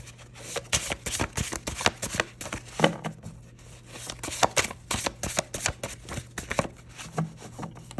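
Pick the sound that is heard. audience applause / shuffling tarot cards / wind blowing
shuffling tarot cards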